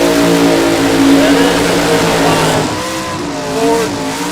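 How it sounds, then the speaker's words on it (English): Drag racing cars at a dragstrip, including a 1955 Ford, doing burnouts with loud, sustained engine roar and squealing, smoking tires, the noise steady and close before easing slightly near the end. "Beautiful burnouts. They're burning the rubber right off those tires for sure."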